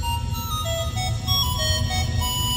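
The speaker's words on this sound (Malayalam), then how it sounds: "അതോടൊപ്പം കോളും വന്നു." Electronic mobile phone ringtone playing a bright repeating melody of short tones over a low background hum, used in a school skit, moderately loud with no talking.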